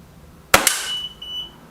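A single sharp crack from a BSA TS Ultra air rifle firing a JSB Exact Jumbo pellet, close and loud, with a quick metallic after-click and a faint ringing tail.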